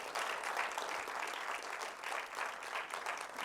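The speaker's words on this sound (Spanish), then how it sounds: "Denle un aplauso al Rey de Reyes." A church congregation breaks into steady, sustained applause, a dense wash of many hands clapping without pause, moderately distant and filling the room.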